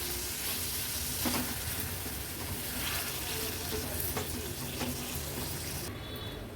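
Mutton mince is stirred into a frying masala gravy, giving a steady, soft sizzle with scraping and mixing sounds and some faint wet noise throughout.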